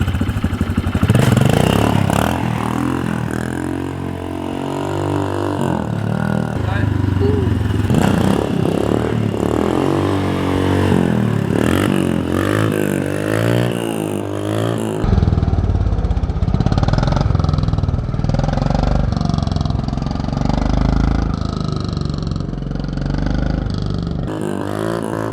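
A Honda CRF125F dirt bike engine revving hard as the clutch is dumped for a wheelie, loud and close with repeated rising and falling throttle bursts and clattering mechanical noise throughout.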